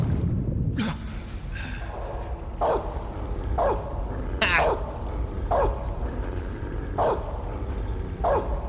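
A guard dog in Metal Gear Solid 3 barks repeatedly in short, evenly spaced yelps over a steady wash of water and ambient noise, fairly loud and close.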